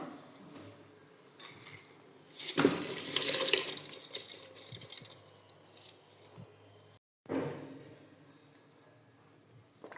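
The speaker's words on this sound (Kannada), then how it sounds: "ಇದೀಗ ನೀರು ಕುದಿ ಬಂದಿದೆ. ಈಗ ಅಕ್ಕಿನ ಹಾಕ್ಕೊಳ್ತೇನೆ." A burst of splashing and rattling as rice is tipped into a pot of boiling water, followed by quieter stirring and clinks, then another brief splash.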